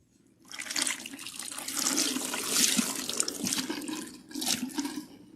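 Water poured over hair during a rinse after a protein treatment, a close splashing rush that swells and eases in waves, with no talk.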